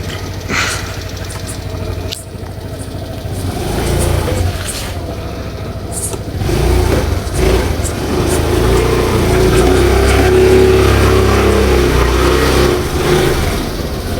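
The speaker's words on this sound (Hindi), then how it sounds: "पहले गाड़ी अंदर कर देता हूँ।" A car engine idles and is driven slowly into a house, a steady close rumble that swells as it creeps forward, with background clatter and no talk.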